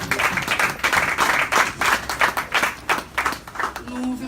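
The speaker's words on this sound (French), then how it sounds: "Nous applaudissons le Seigneur." A church congregation applauding during a sermon: dense, irregular clapping sustained throughout, with voices mixed in and a brief tone near the end.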